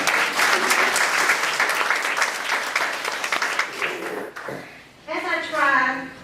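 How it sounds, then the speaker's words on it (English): Applause at a community mentoring dinner for a caterer, dense steady clapping for about four seconds, then fading as a voice starts speaking near the end. "I think we can give her a round of applause"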